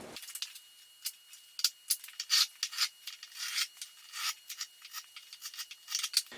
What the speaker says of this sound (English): I'll use a marking gauge for that